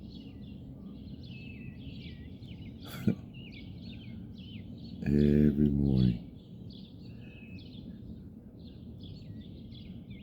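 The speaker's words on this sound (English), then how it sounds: "Y'all hear them birds?" Birds chirping around 6 a.m. on an early morning outdoors, light repeated high calls scattered throughout under background hiss, with a brief sharp knock and a short burst of a man's speech midway.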